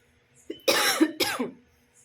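A dry cough from a person with a cold, heard as two rough, close bursts in quick succession, isolated and fairly loud with no speech around them.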